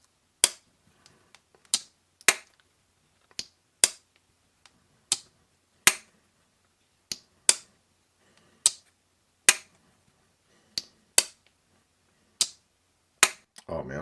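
A Hot Brass Jack folding knife with a brass handle snaps shut against its backspring again and again. About a dozen crisp, close metallic clicks come at uneven intervals, with no talking.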